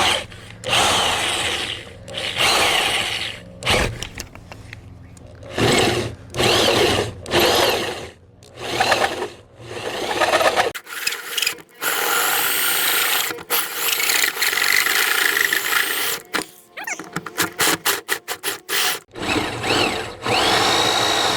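Power drill driving a hole saw with a center arbor and pilot bit, in bursts of whirring and grinding cuts broken by short pauses, then a fast run of brief stuttering pulses near the end.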